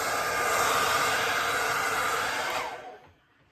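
A hair dryer blows a loud, steady rush of hot air while straightening a beard, running evenly for a few seconds before switching off and fading to near silence.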